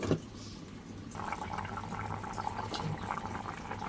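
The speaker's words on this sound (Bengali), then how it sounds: "আমার তরকারি বেশ ফুটে উঠেছে আর একটু ফুটুক" Pot of yam curry boiling on the stove, a steady bubbling, gurgling simmer close by after a brief knock at the start, with no talk.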